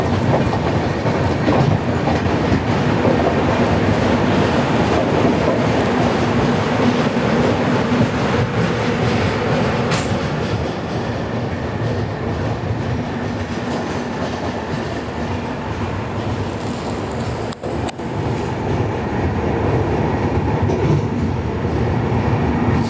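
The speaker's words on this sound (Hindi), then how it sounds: "ये है तिरुनेलवेली जामनगर एक्सप्रेस।" Tirunelveli Jamnagar Express being overtaken on the line near Vasai, a steady loud rumble of rolling coaches with faint clickety-clack of wheels over rail joints, continuous throughout with no voices.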